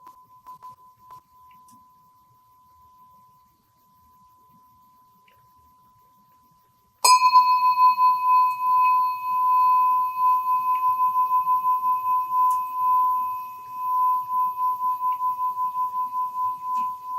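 A Burma bell plate spinning on a cord gives a light, high-pitched tone. After a faint lingering tone, one sharp strike at about seven seconds rings out clearly, and its sustained ring pulses and wavers as the plate turns.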